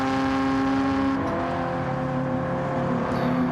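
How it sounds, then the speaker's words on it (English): A Nissan 200SX racing engine in Gran Turismo 7 holds a loud, steady, raspy drone close by, its pitch shifting slightly, with no voices. "That Nissan sounding really nice. Nice dirty engine sound."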